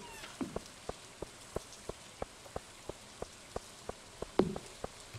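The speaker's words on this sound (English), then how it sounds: "It's also raining" Rain in Stardew Valley patters under a faint hiss, with a steady run of distinct drop-like ticks roughly every quarter second and a slightly heavier splash near the end.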